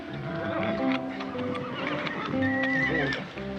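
A horse whinnies loudly nearby while hooves clop and shuffle on the ground, with a voice speaking faintly in between.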